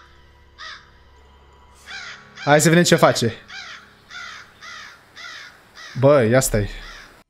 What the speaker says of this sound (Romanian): A fost, de fapt, doar o cioară.